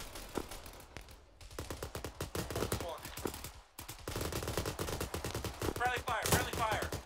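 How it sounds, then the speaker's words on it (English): Rapid automatic gunfire and single shots in the ArmA 3 military video game, dense and continuous with brief gaps, loud and close, with faint voices underneath. "No, stop shooting each other!"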